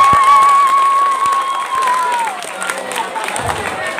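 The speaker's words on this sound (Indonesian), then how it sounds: "Tepuk tangan buat Mirja." A crowd at a Maulid Nabi religious gathering applauds for a child named Mirja, with loud mixed clapping and cheering, a sustained high tone audible early on, fading somewhat toward the end.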